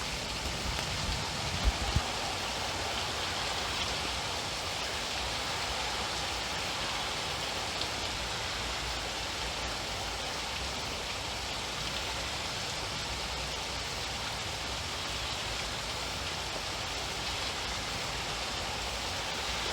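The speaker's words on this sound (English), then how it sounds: "it started raining." Steady rain falling in Oklahoma, a dense, even hiss of drops on surfaces that continues unbroken, with a couple of brief knocks near the start and no talking.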